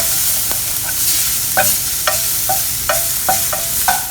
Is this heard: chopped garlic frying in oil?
yes